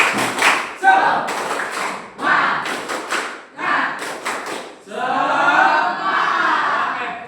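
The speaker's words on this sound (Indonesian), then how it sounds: "Oke, tepuk semangat." A group at a teacher training session does a rhythmic spirit clap, bursts of sharp unison claps and thumps in patterned sets, with voices shouting between and a crowd cheer at the end.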